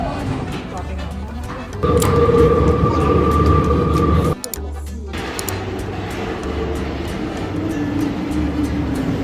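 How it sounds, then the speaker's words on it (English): Busy indoor Paris train station ambience: a steady rumble of a train with a sustained tone, echoing background chatter and footsteps, a brief drop in noise midway. "We arrived at our train station"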